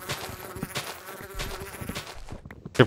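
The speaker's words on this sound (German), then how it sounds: "Ich hab eine Biene." A bee buzzing in the Minecraft video game: repeated short insect-like buzzes over game sounds, moderately loud, with no talk.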